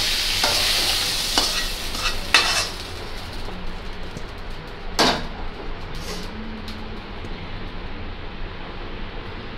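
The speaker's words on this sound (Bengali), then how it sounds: "বড় মাছের তরকারি রান্না করতে গেলে এইভাবে একটু ভেজে নেবেন" Pieces of rui fish fry in hot oil in a pan with a steady, close sizzle, broken by a few scraping and stirring clicks from a spatula; no one speaks.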